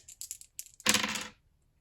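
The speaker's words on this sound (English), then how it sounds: "Let me just roll the dice." Dice rolled for a tabletop miniatures battle game: a few light clicking taps, then a bright rattling clatter lasting about half a second as the dice tumble and settle, close and fairly quiet with no talking.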